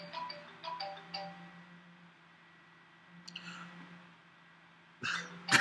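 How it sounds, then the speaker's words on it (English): A phone ringtone for an incoming call rings in short repeated electronic bursts, fairly faint, with quiet gaps and a louder burst at the end, in an otherwise quiet room. "I'm getting a phone call, but I'm going to ignore it."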